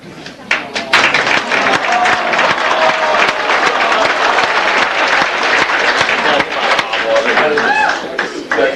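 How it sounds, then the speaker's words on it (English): Sustained applause fills a high school football end-of-season banquet in 1995, a loud, dense wash of clapping from a large crowd that starts after a brief lull and carries steadily to the end. "Applause."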